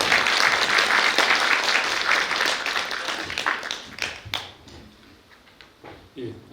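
A residents' meeting crowd claps for a speaker at a station-area urban redevelopment briefing, dense applause that tapers off into scattered claps and quiet room noise.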